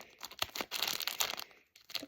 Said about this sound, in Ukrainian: Розрізати ножицями.